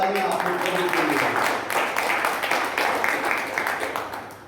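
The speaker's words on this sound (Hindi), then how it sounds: "जोरदार तालियां आपके प्रभु के लिए।" A church congregation at a Christian service applauds loudly for the Lord, producing dense, sustained clapping that starts strong alongside a few voices and gradually fades toward the end.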